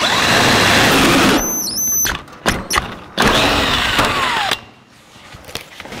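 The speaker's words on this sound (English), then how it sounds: "Take a hole saw, which are notorious for drilling bad holes." A hole saw cuts a 1.5 inch hole for a master cylinder on a 1949 Chevrolet gasser, a loud grinding squeal that stops abruptly and gives way to intermittent scraping and clunks.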